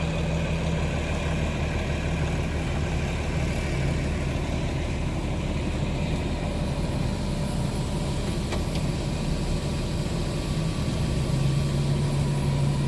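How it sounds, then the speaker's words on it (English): A farm tractor engine idles and runs steadily close by, a continuous low rumble with a faint higher whine, unchanging in level throughout, with no talk. "Tractor's much quieter now with that deal being changed."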